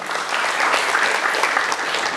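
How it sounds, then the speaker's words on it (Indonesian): An audience at a World AIDS Day ceremony in Pangandaran, West Java, claps loudly for the provincial health office, a dense, sustained burst of applause from many hands. "Tepuk tangan boleh kita persembahkan untuk Dinas Kesehatan Provinsi Jawa Barat."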